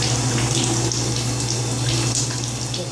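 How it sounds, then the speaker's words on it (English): Cold water runs steadily from a tap in a home maintenance setting where the flow seems weak, a continuous close hiss and splash with no talk. "Turn it on the cold water."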